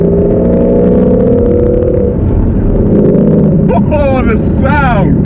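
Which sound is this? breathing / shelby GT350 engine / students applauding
shelby GT350 engine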